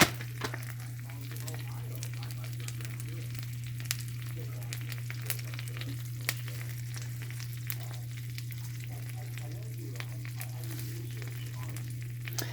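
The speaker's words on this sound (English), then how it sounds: "sear the frickin' meat for the grilled cheese too" Uncured applewood smoked ham searing in a pan, a quiet continuous sizzle and crackle with small pops over a low steady hum, no talking.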